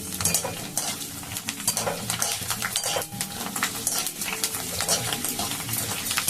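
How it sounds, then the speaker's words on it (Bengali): Ingredients for a fuchka potato filling frying in a pan, with a steady sizzle under frequent scraping and clinking of a utensil against the metal, close and fairly loud. "দেখুন আবার আমি এগুলোকেও ভেজে নিচ্ছি"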